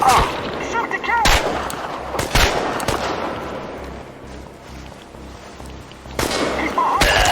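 Gunfire in the video game Chernobylite comes as several sharp, loud shots in bursts, separated by a quieter stretch of rumbling ambience.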